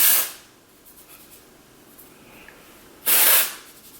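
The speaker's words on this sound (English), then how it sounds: "I'm gonna go ahead and spray my roots with this dry shampoo" Two short hissing bursts of an aerosol dry shampoo sprayed onto hair roots, a few seconds apart, close and fairly loud, with quiet in between.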